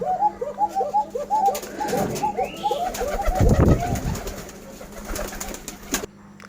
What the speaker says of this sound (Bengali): আমার গগা কবুতর কী পরিমাণ ডাকাটাই করতেছে